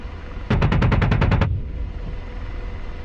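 The 30mm cannon of an AH-64 Apache in DCS fires a single rapid burst of about ten evenly spaced, sharp, loud shots lasting around one second, then the low steady hum of the helicopter continues.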